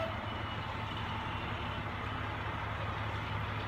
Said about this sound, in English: Oh, it's a fire truck leaving.